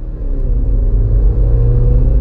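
A BAIC BJ40 SUV engine revs and accelerates, giving a loud, steady low rumble with no break across the whole clip.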